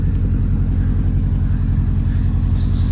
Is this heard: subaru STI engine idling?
yes